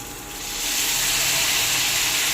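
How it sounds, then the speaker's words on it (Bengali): Hot water poured into frying masala for a homestyle prawn curry, rising into a steady loud hiss and sizzle that holds to the end. "গরম জল দিয়ে ভালো করে মশলাটাকে ভেজে নেব।"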